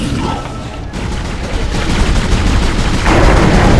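Rifle fire from the Dead Space video game, a dense, loud rattle of rapid shots blending into a continuous roar with no pauses.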